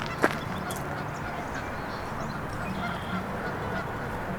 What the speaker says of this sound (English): we heard all the goose commotion